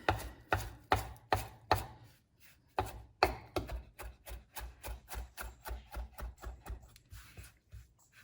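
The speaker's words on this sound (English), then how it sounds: "And we're just going to roughly chop some parsley." Parsley chopped roughly with a knife on a cutting board, a fast run of sharp, close knocks in quick bursts with a brief pause partway, alone and clear.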